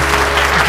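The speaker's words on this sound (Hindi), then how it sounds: "तालियां बजाना" Studio audience applause on a TV morning show, a brief dense burst of clapping.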